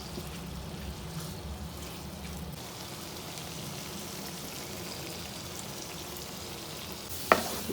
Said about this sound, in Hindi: तमाम मसाले भून रहे हैं और बहुत प्यारी खुशबू आ रही